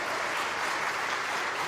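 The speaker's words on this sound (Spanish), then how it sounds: "Un aplauso a la Virgen de Guadalupe" An audience at a talk by Padre Adam Kotas gives a short round of applause honoring the Virgin of Guadalupe, a brief, fairly soft patter of clapping that stays even from start to finish.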